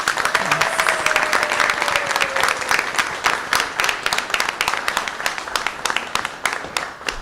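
Audience at a school board meeting applauds, with dense, lively clapping that thins into scattered individual claps toward the end.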